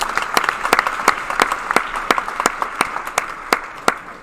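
An audience applauds at the final of a French 3x3x3 Rubik's cube championship, a steady dense patter of claps with sharp individual hits standing out, lasting the whole stretch without talk.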